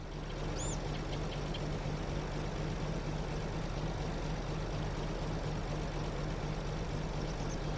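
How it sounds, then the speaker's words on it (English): Steady low rumble of a tractor engine in Farming Simulator 22, running continuously at a constant drone, fairly faint and with no talk over it. "This is the wrong tractor to be fertilizing in."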